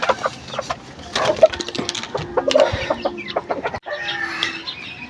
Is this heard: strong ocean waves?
no